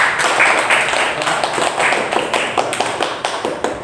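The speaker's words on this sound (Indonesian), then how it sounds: "Tepuk tangan." Students clapping in a classroom after a group is praised, a brisk, fairly close patter of individual claps from a small group, settling into a loose rhythm toward the end.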